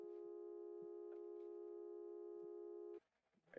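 Synthesized steady tone from a WebGL tone expression, one loud sustained electronic pitch holding for about three seconds before cutting off abruptly, followed by faint background noise.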